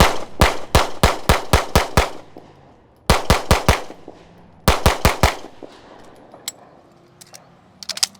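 A Laugo Arms Alien pistol is fired at an outdoor range in rapid strings of sharp, loud shots, a run of about seven followed by two shorter volleys, with a few fainter distant shots trailing off.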